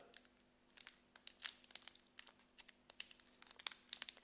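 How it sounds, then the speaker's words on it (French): Plastic foil wrapper of a Pokémon Dragons Exaltés booster pack being torn open, heard as close, quiet, sharp crinkling and ripping in irregular bursts over a faint steady hum. "deuxième booster. Et je serre un peu les dents et les fesses. Il a l'air de s'ouvrir comme le Rayquaza, c'est-à-dire très mal"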